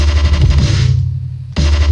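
A loud, crunchy drum and bass synth bass, distorted after a bandpass filter, pulses heavily, briefly thinning to a low rumble before the full gritty tone slams back in.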